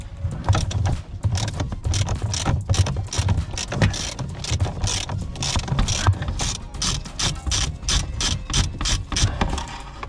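A socket wrench ratchets steadily to undo a stiff nut on a Range Rover L322, with rapid, close clicking strokes in a continuous run and no talk.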